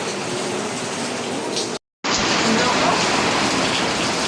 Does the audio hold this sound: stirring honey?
no